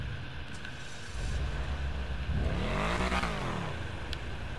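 A car engine in a roleplay video game revs up, its rising and falling pitch swelling loudly in the middle before settling back to a steady idle rumble, with no talk over it.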